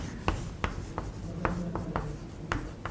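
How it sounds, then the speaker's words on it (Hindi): Marker or chalk writing on a board during a physics lecture on semiconductors, heard as a series of short scratchy strokes and taps at an uneven rhythm, close and moderately loud, with no talking over it. "तो यहां पे अपन लिख लेते हैं"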